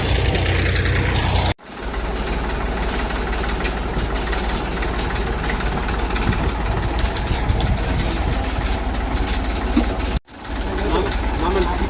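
A tractor engine running a mounted pesticide sprayer drones and rattles continuously at close range, with brief dropouts near the start and end, and faint voices underneath.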